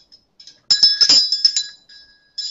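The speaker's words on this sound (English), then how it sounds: "a bell being hit with a screwdriver" A metal bell struck repeatedly with a screwdriver, ringing out in a quick burst of bright, clangy hits with a sustained metallic tone, preceded and followed by a few lighter taps, heard close and alone.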